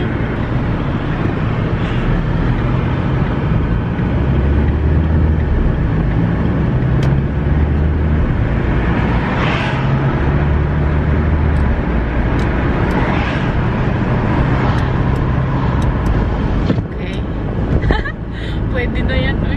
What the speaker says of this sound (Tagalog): Maraming sasakyan dito